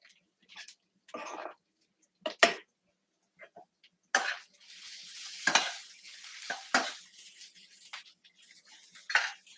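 Mushrooms sizzle in a hot pan while a utensil scrapes and stirs in short bursts, with quiet gaps and a steady frying hiss later on.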